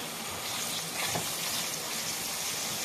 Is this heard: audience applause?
no